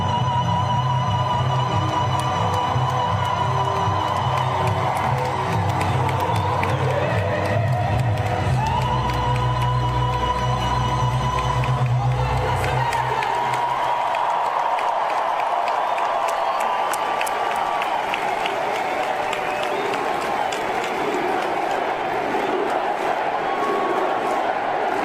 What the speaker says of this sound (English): So, raucous crowd, packed to the brims inside.